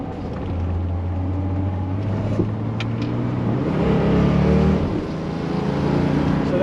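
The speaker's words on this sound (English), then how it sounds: "That was a forced downshift, so we know the solenoids and the transmission are working" Car's automatic transmission making a forced downshift on a test drive, a steady engine drone that rises and swells into a harder rev partway through, heard from inside the cabin.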